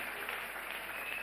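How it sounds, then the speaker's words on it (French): Church congregation applauding, a faint, distant and even wash of many hands clapping throughout with no distinct individual claps. "applaudissons l'Éternel."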